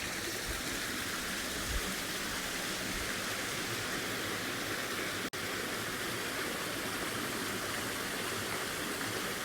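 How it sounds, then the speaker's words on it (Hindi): Clear mountain spring water flows through a dense forest, a steady broadband rushing and gushing that continues evenly from start to finish with one brief click. "काफ़ी स्वच्छ पानी बह रहा है पहाड़ों से"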